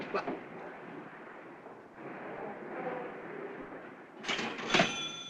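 A cash register opened in a 1942 film scene, a mechanical clatter and bright metallic ring near the end, following a low, murmuring room tone.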